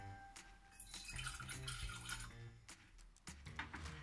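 Brewed tea poured into a cocktail mix for a Sidecar, a fairly steady close liquid splash over about four seconds with light glass and dish clinks around it.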